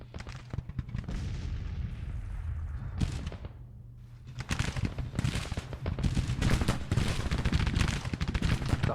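Rifle fire from a Civil War battle in the Grand Tactician strategy game, dense volleys of crackling musketry with booming reports, a brief lull, then sustained heavy rolling fire.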